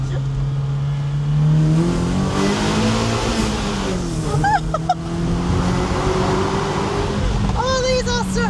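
An MG MGF fitted with a Mark 9 TT exhaust revs inside a tunnel, a steady droning engine note rising and falling with a few sharp throttle blips and crackles, booming off the walls while people talk and react.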